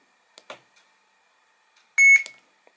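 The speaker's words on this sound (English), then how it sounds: "You heard the beep." A short, bright electronic beep rings out after a couple of faint clicks, followed by a quick chirp, then quiet.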